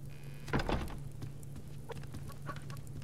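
A chicken in the Subsistence survival video game clucks in a short burst of close, throaty calls, followed by a few fainter clucks over a steady low hum.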